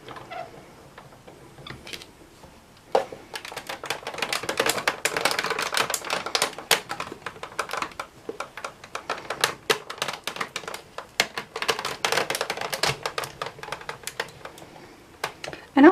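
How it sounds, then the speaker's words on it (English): A hand-cranked die cutting machine feeding foil and cardstock through a die: quiet, rapid clicking and ratcheting that runs continuously for most of the stretch, with occasional louder clunks. "slowly wind it through your die cutting machine"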